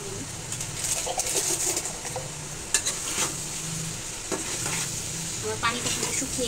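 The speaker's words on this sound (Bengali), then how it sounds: "এখন শুধু হালকা আছে, আমি এটাকে ভাজা ভাজা করব।" Meat stirred and frying in a pan as the water cooks off, a steady broadband sizzle with scattered scrapes and clicks of stirring throughout, bird calls faint in the background.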